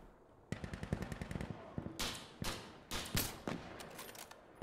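Rapid automatic gunfire and heavy shot bursts in the shooter game Insurgency: Sandstorm, loud and close, with rattling strings of shots followed by several sharp, booming blasts and echoing tails.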